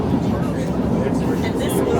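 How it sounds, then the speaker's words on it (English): A Boston tram on a winter trip, riding with a steady loud rumble and rolling rail noise heard from inside the car, with chatter mixed in. "We're on the train"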